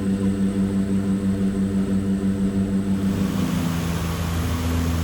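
A Winair Twin Otter twin-propeller aircraft on approach to Saba, its loud steady propeller drone with a pulsing beat filling the cabin throughout, the engine note shifting slightly partway through.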